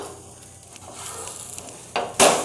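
A Lays omelette is flipped in a pan: soft scraping and sizzling, then a sudden clatter and brighter burst of frying as it turns.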